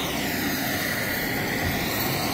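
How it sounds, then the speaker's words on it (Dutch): A helicopter flies over Fox Glacier, its steady broadband engine and rotor roar filling the air continuously at a fairly loud, constant level with no speech over it. "Helikopter."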